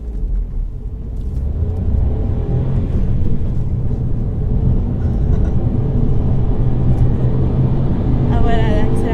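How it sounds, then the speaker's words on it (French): A car accelerates hard from a standstill with a steady, loud engine rumble that builds slightly as it gains speed toward 80, while people talk inside the cabin. "Allez, du coup, on se refait une petite accélération"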